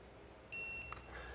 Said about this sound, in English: press and hold the set button until the monitor beeps